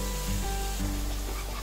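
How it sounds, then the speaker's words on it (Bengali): Spiced mutton masala fries in a pan while a spatula stirs it, a soft sizzle with faint scraping strokes, quiet and close with no talking. "দেখো মশলাটা আবার আমি এভাবে খুন্তির সাহায্যে নাড়াচাড়া করে নিলাম।"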